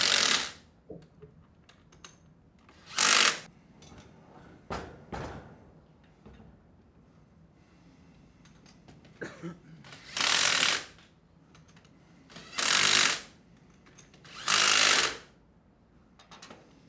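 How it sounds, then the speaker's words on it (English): Ratchet tightening the bolts on a Sandpiper HD20F non-metallic pump during kit installation, heard as several loud bursts of rapid clicking, each about a second long, separated by quieter handling clatter; no talking. "Go ahead and tighten the bolts up a little bit and then tighten them down evenly in a star pattern"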